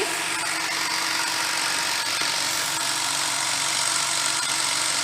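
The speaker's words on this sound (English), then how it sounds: "Now we are still increasing the load on the motor." A DC shunt motor runs under increasing brake load on a test bench, giving a steady, loud broadband whir with a faint low hum throughout, no speech.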